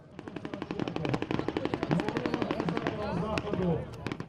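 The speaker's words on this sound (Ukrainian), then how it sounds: "Бій запеклий, вибухи, стрілянина" Rapid bursts of gunfire and booming blasts from a staged battle reenactment at a festival in Pyrohiv, loud and continuous, with shouting voices mixed into the din.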